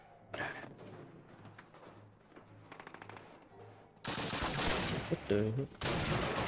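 Bren gun machine-gun fire in a Call of Duty war game rattles in bursts, starting sparse and distant, then turning into a loud, dense fusillade, with a short exclamation spoken over the shooting.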